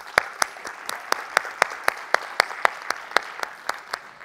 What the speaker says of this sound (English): So just for Liam, please, one more round of applause.